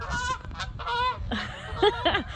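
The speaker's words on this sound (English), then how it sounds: "Oh, there's our geese." Several geese honk loudly in overlapping bursts on a cattle farm, close by, with harsh nasal calls repeating through the clip and some background noise.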